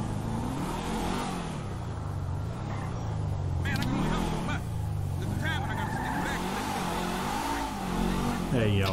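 A car engine roars in GTA 5, a loud close rumble that rises and falls in repeated revving swells, with a voice over it and a brief honk-like tone near the end.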